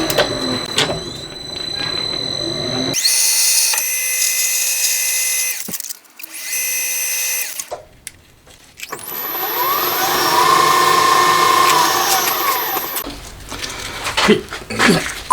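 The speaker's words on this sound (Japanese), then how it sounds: "断面削って溝掘って仕上げるという形" A camshaft for a four-cylinder conversion of a Honda Monkey engine is being machined, with a loud metal-cutting whine and tonal grinding in several bursts separated by brief pauses.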